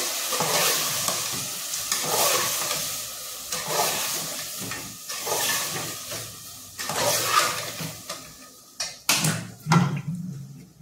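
Jackfruit vegetable sizzles and hisses in a hot pan with turmeric while being stirred, with scraping bursts and louder sizzling surges toward the end, no talking.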